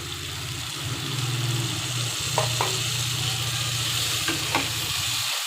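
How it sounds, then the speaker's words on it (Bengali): Spices with ground mustard, turmeric, chili, coriander, cumin and salt sizzling in a pan for koi fish curry, a steady close hiss with a low hum underneath and a few light stirring taps, no voices. "সমস্ত উপকরণগুলো আমি খুব ভালোভাবে নেড়ে চেড়ে নিচ্ছি"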